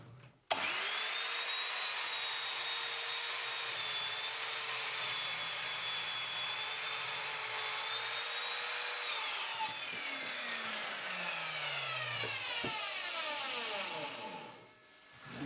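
Evolution Fury 3S 210mm sliding mitre saw making a 45-degree bevel cut through wood, blade spinning up with a loud steady whine that holds through the cut, then winds down to a descending tail before stopping.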